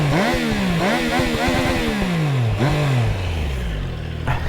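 A 2023 Triumph Tiger Sport 660 revving close to its exhaust, the engine note climbing and dropping in repeated loud blips before settling back toward a lower idle.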